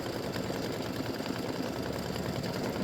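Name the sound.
embroidery machine stitching a sleigh design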